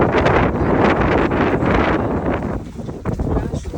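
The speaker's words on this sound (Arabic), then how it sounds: "طبعا صار هواء راح اطير السنادين" Wind gusting outdoors among a collection of potted flowering plants, a steady loud roar buffeting the microphone with rustling, easing slightly toward the end.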